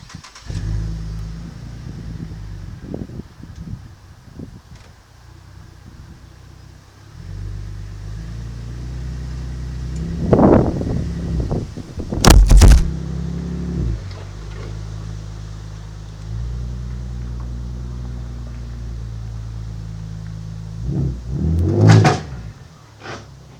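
A car engine revved with the handbrake on: a low idle rumble rising into several loud revving surges, the strongest bursts near the middle and end, with no one talking.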